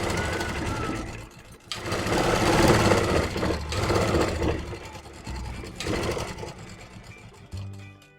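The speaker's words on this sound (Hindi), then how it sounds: "अब इस पर लगाते हैं हम सिलाई। एक किनार वाली सिलाई" Sewing machine running an edge seam on a stand-collar kurti, close rapid whirring in a few runs with short stops, a voice talking briefly over it.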